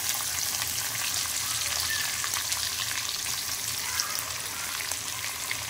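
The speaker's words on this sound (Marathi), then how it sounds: "तर आता आपण ह्यात कांदा ॲड करूया जो उभा चिरलेला आहे।" Vertically sliced onion fries in oil tempered with cumin, mustard seeds, curry leaves and asafoetida, giving a continuous soft crackling sizzle at moderate distance with faint scattered pops and no talking.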